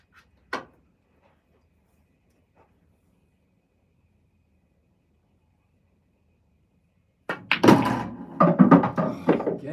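On an English pool table, a single sharp cue strike sounds early, followed by a long quiet pause and then a cluster of clacking ball impacts and rolling knocks near the end.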